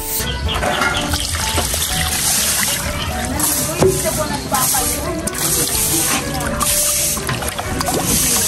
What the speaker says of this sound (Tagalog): Ilagay na sa palanggana maliit ang lagyan ng tubig mga parikoy, at pakabanlawan lang muna natin yan bago natin siya i-marinate.